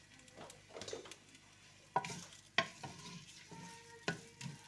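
Chopped onion frying in ghee inside a clay handi, a soft sizzle broken by a few sharp spoon clacks against the pot and quieter stirring scrapes, close but low in level.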